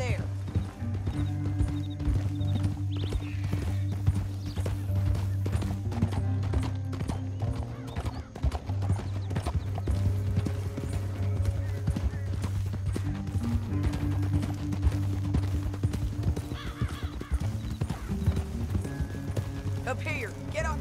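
Horse hooves clip-clop in Red Dead Redemption 2, a steady rhythmic trot under continuous music and voices, with an occasional whinny and mechanical clatter mixed in.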